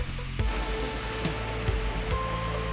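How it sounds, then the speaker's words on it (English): Running water near a scenic lookout, a steady broad wash like a nearby stream or falls, heard alone with a few brief knocks and clicks. "I heard the running water from where I'm standing and I had to go check it out."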